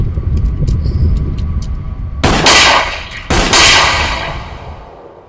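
A gunshot from a music video rings out as a sharp loud blast, followed about a second later by a second loud burst, both over a steady low rumble of background music.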